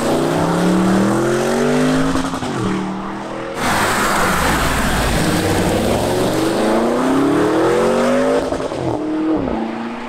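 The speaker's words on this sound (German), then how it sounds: "die Sportabgasanlage, die knallt richtig raus" A loud V8 engine of a Porsche Cayenne GTS revving hard with a crackling sport exhaust, rising and falling through gears, roaring continuously and close by.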